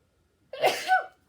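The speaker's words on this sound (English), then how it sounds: "something's making me sneeze" A single sharp sneeze bursts out of near silence, close and loud, with a quick breathy intake blending into the explosive release.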